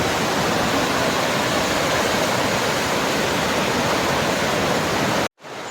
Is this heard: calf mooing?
no